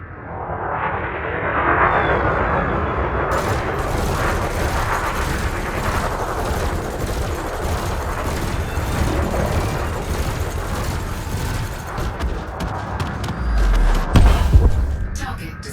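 Multi-cannons in Elite Dangerous fire at an unshielded target drone, a dense run of loud, rapid thumping shots under engine hum, ending with a heavy boom near the close.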